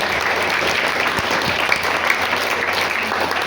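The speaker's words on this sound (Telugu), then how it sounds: "కార్తీక్ గారికి చప్పట్లు కొట్టిన సంగతి." An audience at a high school gathering claps steadily, a dense, continuous patter of applause that lasts the whole span without pause.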